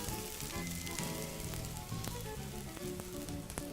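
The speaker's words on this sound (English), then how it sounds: "Make sure your pan is nice and coated, and straight in there, I'm gonna go with my onions." Onions hit a hot, oil-coated pan and set off a dense, steady sizzle that carries on close and even without any talking, ahead of a crispy chicken parmesan lunch.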